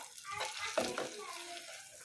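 Mixer-ground spice paste hits hot tempering oil for a peppery tomato rasam, giving a steady close sizzle with stirring scrapes and a sharper hissing burst midway.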